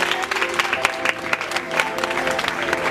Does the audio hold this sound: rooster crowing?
no